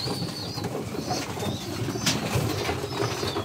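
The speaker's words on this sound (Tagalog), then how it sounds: "Itong ating ibon." Pigeons coo in a fancier's loft, soft low throaty calls under a busy background of chirps and rustling, with a brief flutter of wings near the middle.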